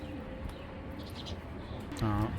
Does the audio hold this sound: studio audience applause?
no